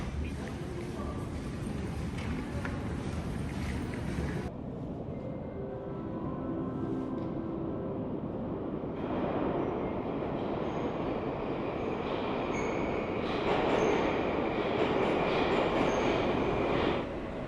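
A metro train rumbles through Komsomolskaya station on the Moscow Metro circle line, steady and loud, with shifting mechanical hum and a faint squeal of wheels as it moves.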